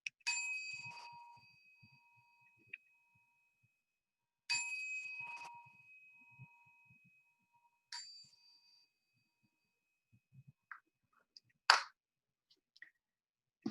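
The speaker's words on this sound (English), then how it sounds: "just sit back and listening to 2 sounds of the bell, 3 sounds of the bell" A meditation bell is struck three times at the start of a guided meditation, each ring a clear, bright tone that rings out and slowly fades. Faint soft clicks and small knocks follow after the strikes.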